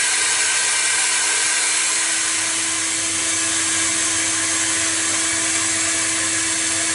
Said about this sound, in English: Suction only, doors open and Hoover out of the room.